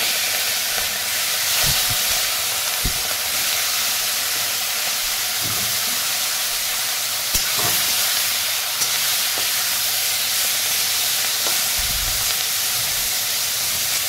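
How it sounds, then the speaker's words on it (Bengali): Salted, turmeric-coated prawns fry in mustard oil in a hot wok, a loud, constant hissing sizzle with a few soft knocks and clinks scattered through it. "আমি নুন হলুদ মাখিয়ে রেখেছিলাম মাছগুলো, এরপর আমি হালকা করে একদম ভেজে নেব।"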